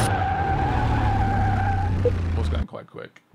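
Tires squeal in a long skid as a car brakes hard during a brake test in Car Mechanic Simulator 2021, with an engine hum underneath. The skid cuts off abruptly, then someone talks.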